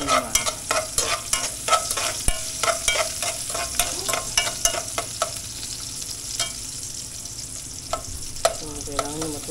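Adobo sizzling in a pan while being stirred, with repeated sharp scrapes and clinks of the utensil over a steady frying hiss, close and alone.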